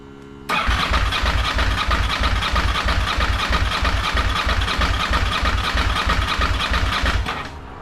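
A 1992 Ducati 900SS motorcycle engine bursts into a loud, close, fast and steady rhythmic pulsing that holds for several seconds, then eases off at the end.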